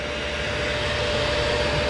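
A shop vacuum runs at a tool and cutter grinder while a carbide scraper edge is restored, giving a steady, even whooshing drone with a faint whine that holds unchanged throughout, with no talking.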